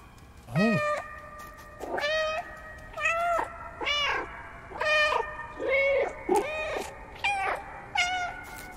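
A cat in the Stray video game meows again and again, about nine distinct cries spaced roughly a second apart, clear and close over a quiet background with no talking.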